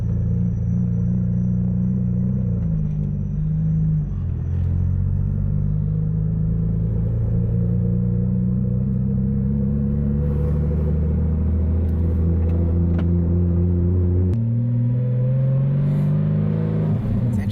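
A Porsche fitted with a Fabspeed Supercup exhaust drones and rumbles steadily while driving, its low hollow tone rising and falling with engine revs across the whole stretch, close and continuous with no talk.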